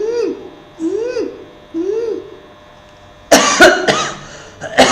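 Several hard coughs in a quick cluster come after three rising voiced breathing or hooting sounds during a throat-strengthening yoga pranayama exercise. Near and fairly loud, with no other talk.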